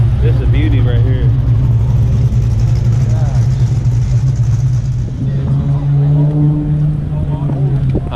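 A Chevelle muscle car engine rumbles steadily on a track, a deep, loud, continuous drone with a slight pitch rise near the end, while people cheer and talk over it.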